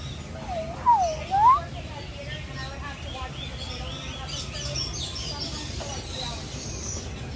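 At Disney's Animal Kingdom, a bird gives two short, rising whistled calls close by, then faint background chirps and a low rumble fill the rest of the clip.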